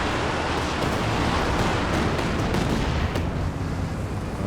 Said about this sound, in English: gets triggered on one of the old mines by a mortar